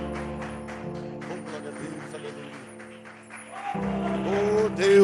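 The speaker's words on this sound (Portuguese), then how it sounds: "a igreja que crê, diga amém e aplauda o Senhor Jesus" A church congregation claps in a steady, scattered patter during a worship service, under sustained keyboard tones and a speaking voice, swelling louder toward the end.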